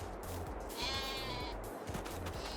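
Sheep on a small farm plot give a couple of wavering bleats at moderate distance, over low rumbling outdoor noise with soft thuds.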